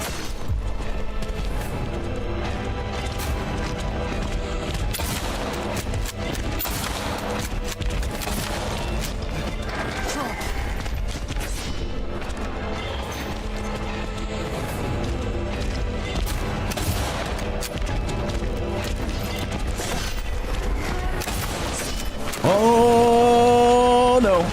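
Gunfire rings out in the Silent Hill 2 Remake while running through the Lakeview Hotel Otherworld, with sharp shots scattered irregularly over a droning, tense backdrop and a rising tonal swell at the end.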